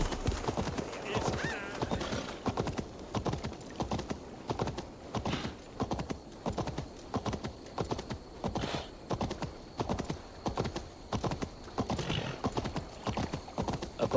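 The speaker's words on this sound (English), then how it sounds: "Stop that horse!" Hooves of a galloping horse in Assassin's Creed Valhalla beat a fast, steady clip-clop rhythm throughout, with a whinny mixed in and some voices in the background.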